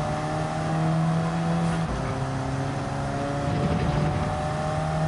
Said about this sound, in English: It's the Alfa Romeo 4C Group 4, so it's a bit of a gutless wonder